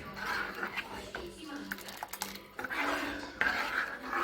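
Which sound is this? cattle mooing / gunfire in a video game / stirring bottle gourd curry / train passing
stirring bottle gourd curry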